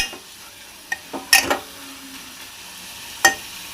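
Turmeric frying in a pan, heard as a few scattered stirring scrapes and light clinks over a faint sizzle, with quiet gaps between the sharper knocks.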